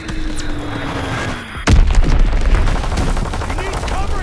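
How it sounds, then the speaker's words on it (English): A heavy enemy bomb blast in the World War II shooter Call of Duty: WWII, a sudden loud boom hitting mid-clip and rolling into sustained rumble and crackling gunfire, over an already dense battle soundscape. "Enemy bomb incoming."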